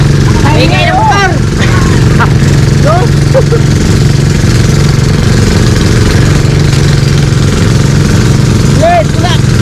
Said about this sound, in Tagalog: Ingay! Ingay ng motor!